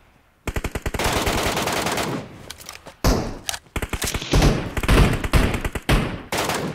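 Rapid automatic gunfire from the video game PUBG Metro Royale, loud and close, in dense bursts with brief gaps between them and no talk over it.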